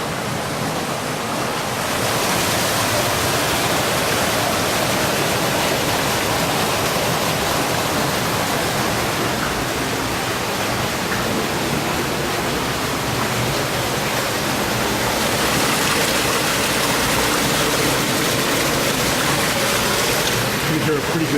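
Witch's Falls at the Upper Dells, a broad, steady rush of falling water echoing in a rocky gorge, heard from a tour boat with people speaking over it.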